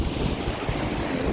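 Strong ocean surf rolls onto a beach in the early morning, a loud continuous wash of breaking water mixed with wind buffeting the microphone, no voices present.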